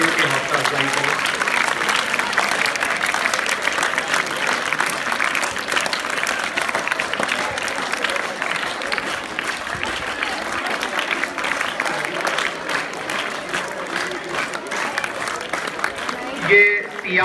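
A school audience at a student election result event gives sustained applause for newly elected class representatives, a loud, steady crowd of clapping hands that lasts the whole stretch and thins out only near the end.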